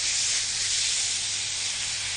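Minced chicken frying in a pan with onion and spices hisses in a loud, steady, unbroken sizzle from start to finish, close and alone without any talk.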